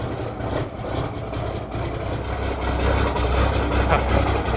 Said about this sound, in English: Oh, listen to that lope.